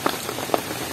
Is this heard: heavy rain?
yes